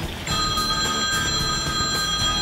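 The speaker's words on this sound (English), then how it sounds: "getting a phone call" A telephone rings loudly and close, with a bright, insistent electronic trill that starts abruptly and keeps sounding, no voices over it.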